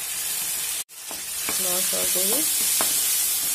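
Fish belly fries in a pan over onions for an Assamese dish with pumpkin flowers. A loud, steady sizzle continues throughout, broken by one brief dropout, while a voice speaks over it.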